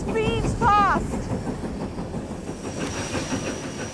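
A Great Western Railway steam train with a mailbag collecting van speeds past, a loud continuous rumble and hiss with rhythmic rail clatter, and a high whistle-like tone sweeping near the start.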